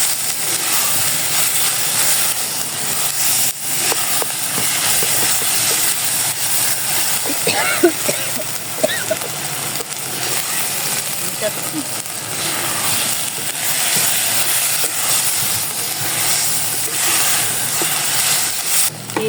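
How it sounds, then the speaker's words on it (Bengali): Spice paste fries in a pan for a liver bhuna, giving a steady broad hiss that holds through the whole stretch, with a few faint clinks of a spoon against the pan. "পেস্টটা ভালো করে ভেজে নেব"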